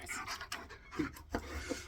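A dog pants in quick, soft bursts close by, with faint scratching and handling noises around it and no one speaking.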